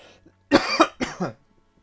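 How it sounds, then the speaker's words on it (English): Two quick, harsh coughs close to the mic, one right after the other, with quiet before and after. "Excuse me, need to cough."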